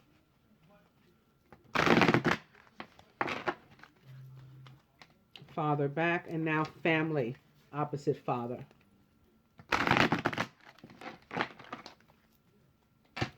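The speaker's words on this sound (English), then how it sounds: "Let me shuffle them once or twice too. So now I'm shuffling." Oracle cards being shuffled in a few short riffled bursts, close up, with a person talking between the shuffles.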